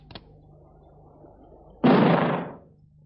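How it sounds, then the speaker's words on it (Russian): A single rifle shot in an old Soviet adventure film, one sharp loud report with a short rumbling tail, preceded by a faint click and set against a quiet background hum. "значит, выстрел был из ружья"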